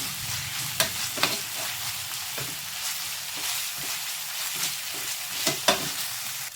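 Ginger garlic paste frying in a pan for Andhra-style potato fried rice, a steady broadband sizzle with a few sharp stirring scrapes and clicks, close and alone with no talking.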